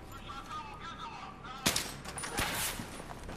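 A sharp gunshot blast in the Battlefield 3 game, followed by the rumble of more gunfire and a lingering echo, heard over background game noise.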